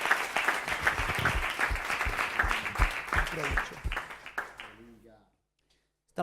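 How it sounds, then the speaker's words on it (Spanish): A church congregation breaks into applause, with claps and cheering mixed with voices through the first seconds before it fades out to near silence. "dale un aplauso al Señor"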